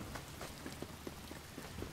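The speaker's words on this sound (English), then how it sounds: "doesn't matter where we're at. It just rains." Rain in the Elder Scrolls Online game world falls steadily, a soft continuous hiss dotted with small pattering drops striking surfaces, fairly quiet and with no one talking.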